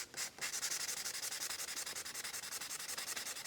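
Sandpaper is rubbed back and forth across a metal sample surface to polish off carbon before a hardness test, producing a fast, even rhythm of close, gritty scraping strokes throughout.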